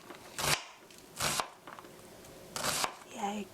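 A knife chops thin-sliced food into half-centimetre squares on a cutting board for a cheese omelette, with three or four distinct close, crisp chopping bursts separated by pauses, and a voice briefly speaks at the end.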